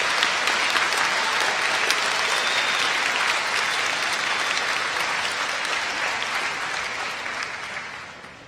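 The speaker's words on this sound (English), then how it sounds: "Ladies and gentlemen, can I have another round of applause?" A high school commencement crowd gives a steady round of applause, dense and sustained clapping that holds loud throughout before tapering slightly at the end.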